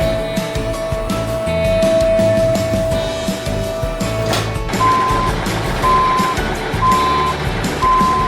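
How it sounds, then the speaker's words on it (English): A truck crane reverses on a construction site, with loud, steady repeated reversing beeps over a rumbling diesel engine, heard up close with no talking. "the silly truck crane."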